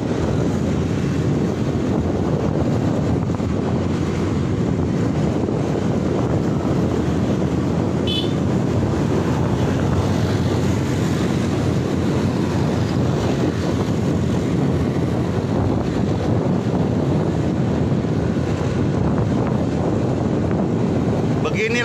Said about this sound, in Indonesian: Ini saya dibonceng sama Bapak Stanley naik motor